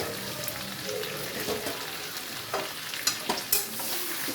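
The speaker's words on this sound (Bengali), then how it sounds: "চিকেনটাকে তো ভালোভাবে নেড়ে নিচ্ছি।" Chicken frying in a pan is stirred with a steady sizzle and soft scraping, several sharper knocks of the spoon coming toward the end, close and moderately quiet.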